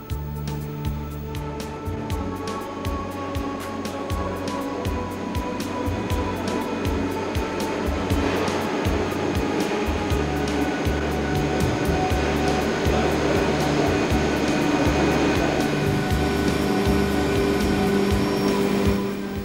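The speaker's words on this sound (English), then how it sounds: "The helium in gaseous form is stored in huge reservoirs, then compressed by powerful compressors." Powerful compressors pressurizing helium gas for the LHC superconducting magnets run as a loud, continuous industrial drone with steady hum and pulsing low throb, unbroken throughout.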